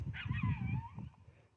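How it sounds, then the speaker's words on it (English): Dogs on a desert hiking trail give yips and a drawn-out whimpering whine, fairly close and steady over a low rumble of wind or movement. "You hear these dogs out here."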